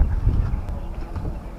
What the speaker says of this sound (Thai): นี่ครับรถม้า